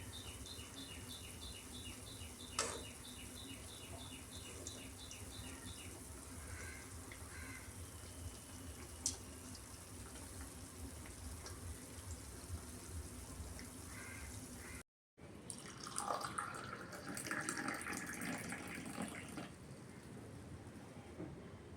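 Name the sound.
semolina rava vada balls frying in oil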